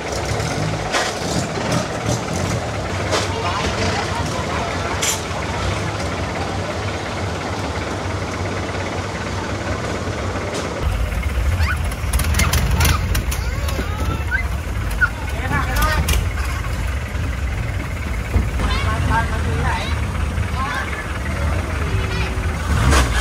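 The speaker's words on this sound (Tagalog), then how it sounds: "Traffic." Busy street traffic in Bangkok, Thailand: a steady drone of idling engines with vehicles passing nearby, growing louder midway, while people talk intermittently over the din.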